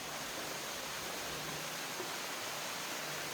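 Deungseon Falls pours through a steep-walled gorge, a steady, unbroken rushing roar of water that stays even and continuous throughout, with no voices.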